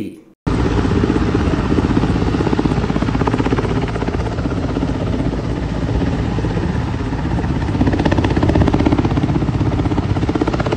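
A rescue helicopter lifts a young man from the middle of a river in Malkangiri, its engine and rotor roaring loud and steady throughout, close and continuous.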